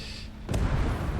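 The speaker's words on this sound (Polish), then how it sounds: "A nie, to armata strzela." A single heavy tank cannon shot booms in a video game battle, a sudden deep blast followed by a rumbling low tail that fills the rest of the moment.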